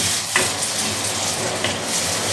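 Cabbage-roll filling frying and being stirred in plenty of oil, a steady close sizzle with a couple of soft utensil scrapes and no talking.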